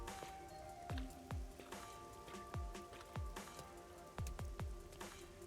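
Steady rain falls in the video game Rain Code, with a soft constant patter and a series of heavier dripping splashes landing at irregular intervals, alone and without talk.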